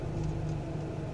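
A car engine idles in neutral during a pre-purchase inspection, a steady low hum throughout the short stretch, close by and even, with no clear rev surge.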